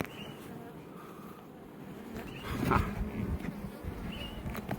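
A swarm of honey bees buzzes during a hive inspection, a soft, continuous humming drone with a few nearer passes swelling briefly, faint and steady throughout.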